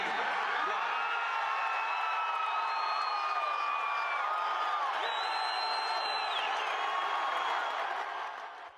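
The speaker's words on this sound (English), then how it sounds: "you can hear the crowd absolutely erupt" A baseball stadium crowd erupts at the news of Osama bin Laden's death, a sustained roar of cheering with whoops, shouts and drawn-out chant-like tones, steady and slightly distant before tapering off at the end.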